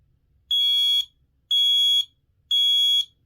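Three loud, piercing electronic beeps from a Kidde P4010ACSCO-WCA smoke and carbon monoxide alarm under test, each about half a second long, evenly spaced with short silences between.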